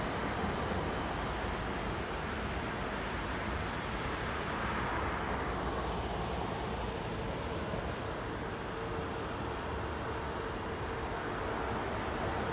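A distant airliner takes off from a runway at London Heathrow Airport, a broad low rumbling roar that holds steady at moderate volume with a faint rising whine.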